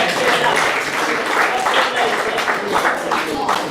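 A crowd applauds at a school cricket player draft at St Charles College, steady dense clapping filling the room for several seconds alongside voices.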